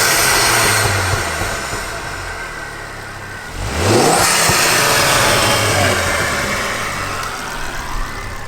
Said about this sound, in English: just give me some induction noise